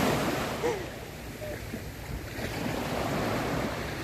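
Choppy waves wash steadily along a shore beneath wind noise on the microphone, with a ferry having passed offshore; a continuous, moderately loud surf roar with no distinct breaks.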